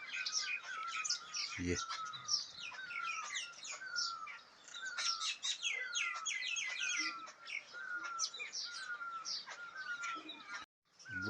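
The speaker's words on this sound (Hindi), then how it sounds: "बहुत सारी चिड़ियाँ आज आ रही हैं" Many birds chirp in a home garden, a busy chorus of overlapping tweets and calls running almost continuously, with a brief spoken word near the start.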